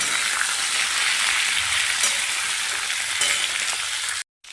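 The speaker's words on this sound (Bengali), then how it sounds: "এরপর আমি কড়াইশুঁটি আর অল্প একটু টমেটো দিয়ে নাড়াচাড়া করব।" Green peas and a little tomato fry and sizzle steadily in a hot wok while being stirred, with a continuous loud crackle close up and no talking.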